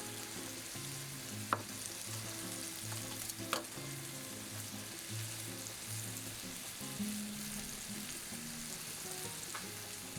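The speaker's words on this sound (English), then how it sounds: "please watch this food sizzle" Bacon-wrapped beef filet mignon with garlic sizzles in a pan, a steady, quiet crackle and hiss with a few sharp pops, heard alone and up close.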